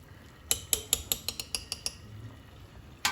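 A metal utensil clinks sharply and rhythmically, about ten quick taps, as boiled potato gnocchi are scooped from a pot onto a platter in a home kitchen, followed by a pause and one more clink.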